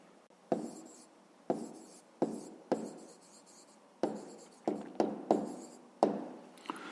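A pen writes on paper in a run of about ten short, scratchy strokes. Each begins with a sharp tap and fades quickly, close and quiet, with no talking.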